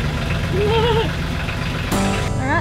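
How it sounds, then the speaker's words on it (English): Both engines of a boat running after being started, a steady low rumbling idle with a sharp jump in level near the end as they kick in together; a voice speaks or hums briefly over it. "both engines are in action"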